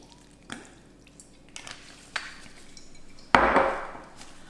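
Rice vinegar poured into a bowl of poke sauce for wahoo and yellowfin tuna poke, a brief, close liquid splash and trickle after a few faint clinks.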